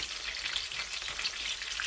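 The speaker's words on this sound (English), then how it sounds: "You can hear that sizzle." Pork chops sizzling in a pan, a steady crackling hiss that stays constant throughout, close and fairly loud.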